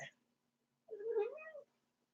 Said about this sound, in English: What is this cat crying behind me?